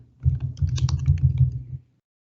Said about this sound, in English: we're going to just type in classes